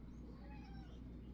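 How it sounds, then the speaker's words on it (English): A pet cat meows once, a short, faint, rising cry heard indoors with no one speaking. "She'll just keep meowing."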